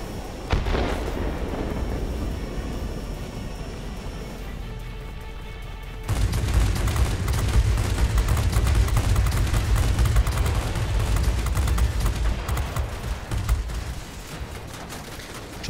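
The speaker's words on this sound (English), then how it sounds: "Tried a rocket, didn't quite work." Rocket and gunfire bursts in the World of Warplanes flight game while flying a Me 109, a loud roaring barrage of explosions over engine drone that surges sharply midway and rumbles on continuously.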